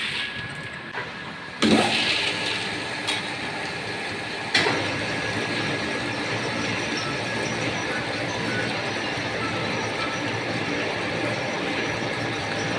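A wooden oil press machine starts up while crushing peanuts, a sudden jump into a continuous mechanical rumble and grinding hum with a couple of sharp knocks, loud and sustained.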